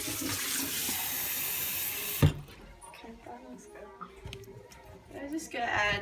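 Tap water pours in a steady rush into a slime mixture for about two seconds and then cuts off, leaving soft, quieter handling and dripping sounds.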